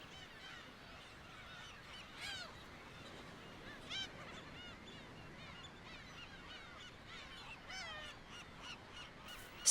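Black-tailed gulls on a sea cliff giving a dense chorus of cat-like mewing and honking calls, many birds overlapping, with a few louder nearby cries standing out.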